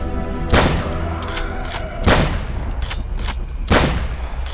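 Gunshots in a zombie video game ring out as three loud, sharp blasts spaced roughly 1.5 seconds apart, with fainter shots and game noise between them.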